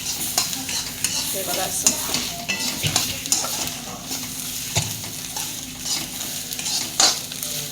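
Coriander seeds are dry-roasted in a pan for a spice masala, stirred with a utensil that scrapes and taps against the metal, giving a steady light sizzle and rustle while someone speaks briefly.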